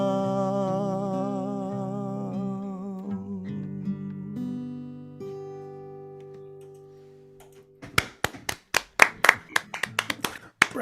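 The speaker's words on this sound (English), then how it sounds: "give him a round of applause" At a summer concert livestream, sustained musical tones fade out and a few pairs of hands then clap in scattered, uneven bursts, sparse and close rather than a full crowd.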